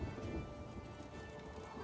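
Rain weather effect from the Gwent video game: a faint, steady patter of falling rain with soft rumbling underneath, continuous and without voices.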